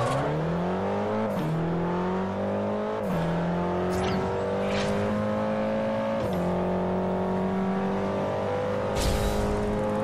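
A Mitsubishi Lancer in the Forza Horizon racing game accelerates hard, its engine note climbing through several gears with clear drops at each shift. The engine stays loud and close throughout, with no talking.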